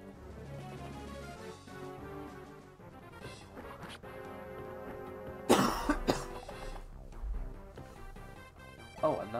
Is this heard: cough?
yes